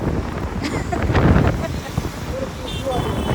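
Strong wind rushes over an open bridge across the Tapi river, a continuous rumbling buffet that swells midway, with faint traffic noise in the background.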